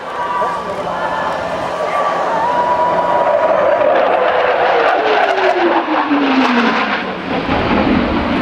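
An F-18 fighter jet roars past at an air show, building to a loud rush as its engine whine sweeps downward in pitch, while a commentator talks over it.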